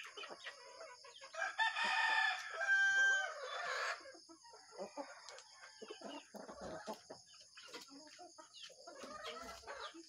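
A pet rooster crows loudly up close, with a long harmonic cock-a-doodle-doo near the start followed by softer clucking and fowl noises.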